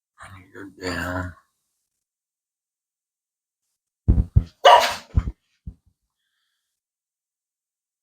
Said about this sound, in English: That was our dog barking.